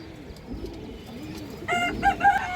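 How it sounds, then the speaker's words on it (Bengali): Cooing of a pair of old-line Khoragola (brown-necked) pigeons, low rounded coos repeating through the clip, with brighter bird calls rising near the end. "জোড়া খরাগলা কবুতর আছে এই যে দেখেন পুরান লাইনের খরাগলা কবুতর"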